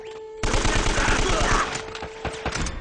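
Gunfire from pistol, shotgun or machine gun rings out in the action game Uncharted: Drake's Fortune as sustained rapid bursts that fall into several separate sharp shots, loud and close, with no talking over them.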